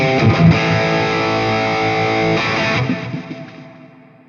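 Electric guitar played through a Lekato ME-01 multi-effect unit, a loud distorted chord ringing out steadily for a few seconds before fading to silence.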